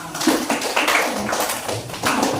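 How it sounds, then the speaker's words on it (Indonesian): An audience claps together at a school gathering, a steady dense patter of many hands close by with no talk over it. "tepuk tangan dulu bersama-sama"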